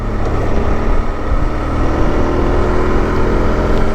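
A heavy motorcycle is ridden along wet, poor-quality country roads in Scotland, its engine droning loud and steady up close with road and wind noise throughout and no talking.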